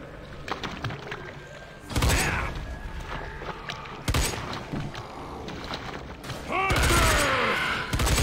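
Weapons fire in Left 4 Dead 2 during a cave level: three loud bursts of gunfire, each followed by rattling mechanical clatter, break through a quieter stretch of game noise.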